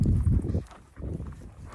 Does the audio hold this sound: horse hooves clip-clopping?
yes